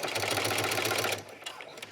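A domestic sewing machine stitches a dog cage pad with a steady, fast mechanical whir that runs continuously, then stops abruptly, leaving quiet room sounds with faint handling noises.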